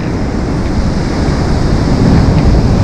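Sea waves breaking on the pebble beach at Flamingo in Lazarevskoye, Sochi, a steady loud wash of surf with some wind noise on the microphone, rising slightly toward the end.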